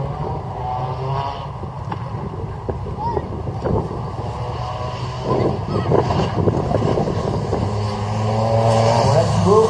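A rally car accelerates through the chicanes of the 2017 Saint-Lô slalom, its engine droning steadily and building toward the end, heard from the roadside under heavy wind buffeting on the microphone.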